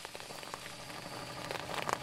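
Steady rain patters on a surface in the ghost-hunting video game Phasmophobia, a dense close crackle of drops that swells slightly toward the end, with no talking.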